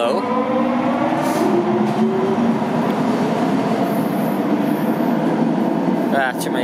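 A train rumbles past close by in Toronto, steady and loud throughout, with faint tonal squeals from the wheels and a brief voice near the end.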